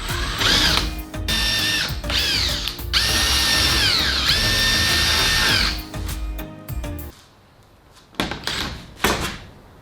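A power drill bores a 4.5 mm hole for a 4 mm bolt while a work stand is built. The drill whines loud and close in several bursts, its pitch sagging under load, then stops, followed by a few knocks and rattles.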